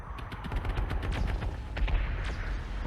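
Plasma cannon blast from a Warhammer 40k Siege animation, a rapid run of sharp, loud gunfire-like bursts repeating over dense low rumble throughout, with no talking.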